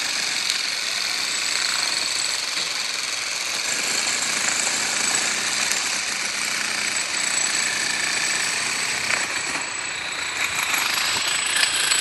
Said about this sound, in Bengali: আগে যে শেয়ার ওয়ালগুলো ছিল এবং কলাম ছিল সেগুলো হ্যামার ড্রিল দিয়ে ভাঙার কাজ চলছে